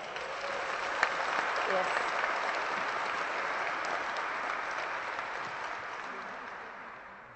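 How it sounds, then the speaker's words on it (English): Audience at the IHE graduation ceremony in April 2014 breaks into sustained applause, a dense, even roar of many hands clapping for several seconds before slowly tapering, with a brief voice over it. "I think they deserve another round of applause"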